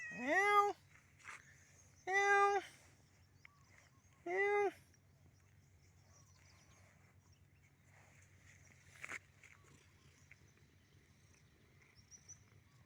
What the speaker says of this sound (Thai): เจ้าเมียเหมียวผู้น่ารักครับ